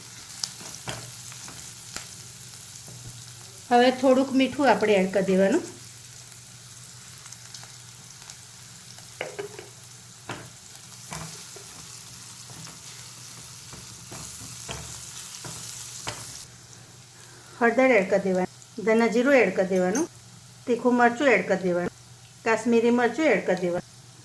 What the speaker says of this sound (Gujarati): હવે આ મરચાં છે અને આ લસણ છે એ એડ કરી દેવાનું